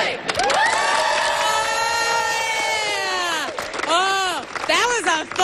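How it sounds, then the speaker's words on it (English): A school crowd performs a pep cheer before a big game between RFA and CBA: many voices yell together in unison, loud and close, one long sustained shout followed by several shorter rising calls. "Oh, that was a fun cheer."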